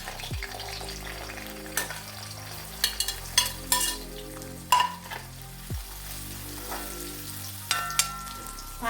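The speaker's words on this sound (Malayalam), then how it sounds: "ഇനി നമുക്ക് പാവയ്ക്ക ചൂടായ എണ്ണയിലേക്ക് ഇട്ടൊന്ന് വറുത്തെടുക്കാം" Bitter gourd fries in hot oil with a steady, close crackling sizzle and occasional utensil clinks, under soft background music.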